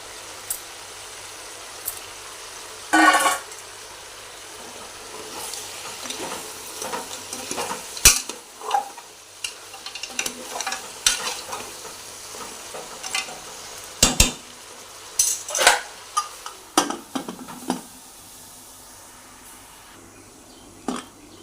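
Goat head curry frying in oil with curry leaves, a steady sizzle under frequent scraping and clinking stirs of a spoon against the pan, spread through the whole stretch.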